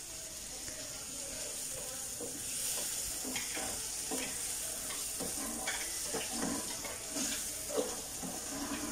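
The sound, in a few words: sautéing tomato, green chilli and curry leaves in a pan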